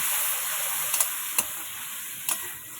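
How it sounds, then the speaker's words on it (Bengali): Spice paste being sautéed with chicken in a pan, a steady close sizzle broken by a few sharp scrapes and taps of a spatula against the pan. "এবার খুব ভালো করে আমি মশলাটা কষিয়ে নেবো চিকেনটার সাথে"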